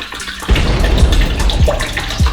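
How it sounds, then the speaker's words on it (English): Water from a tap gushes steadily into a container to dilute CLR for a limescale-removing solution, a loud continuous pour starting after a brief quiet moment, with small splashes and bumps near the end. "We're gonna put water in first."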